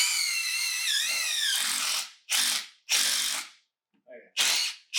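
Impact drill boring into a basement subfloor: one long whining run with pitch swings, then several short, loud, close bursts divided by silences, with a faint brief voice in one gap.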